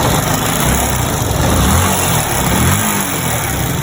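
A Yamaha FZ150i motorcycle engine with poor valve clearance runs and is revved steadily, loud and close, with a dense mechanical roar and no talking.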